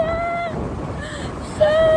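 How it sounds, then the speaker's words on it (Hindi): Strong wind during heavy rain roars and buffets steadily at close range, with a thin tone that fades out and returns near the end. "मेरा छाता उड़ जाएगा बहुत तेज हवा है।"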